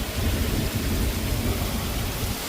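Heavy rain pours in a dense, steady hiss during a thunderstorm, while deep rolling thunder rumbles underneath, loud and continuous with no speech.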